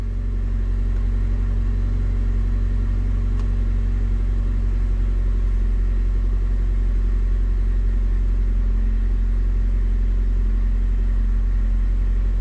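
A used car's engine idles steadily after its ignition coil has been replaced, giving a continuous low, even rumble with a constant hum that runs unchanged throughout, close and fairly loud with no voices.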